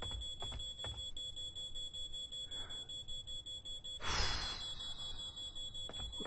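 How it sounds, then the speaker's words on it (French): An electronic alarm rings faintly in a dark, quiet setting in the horror game Paranormal, a thin high steady tone with a few soft knocks and a louder rushing swell partway through. "c'est quoi ce réveil là? J'entends un truc qui sonne là pas loin."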